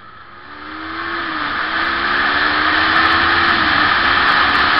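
Kawasaki Ninja motorcycle engine under way, a steady loud drone that builds slightly and holds as the bike rides on, with no voices.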